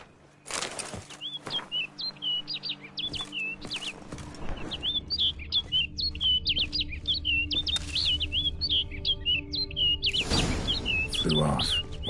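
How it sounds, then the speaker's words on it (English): Birdsong from The Witcher 3: Wild Hunt, with a bird chirping in quick repeated tweets throughout, close and clear over a low ambient game hum, with a brief rustle of wings. "Looks like the bird's leading me somewhere."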